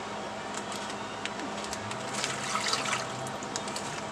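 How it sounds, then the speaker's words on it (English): Water poured from a cup into a Ziploc bag for Halloween deviled eggs, a soft brief splashing trickle that swells midway over a quiet kitchen background. "We're going to pour the water into the bag,"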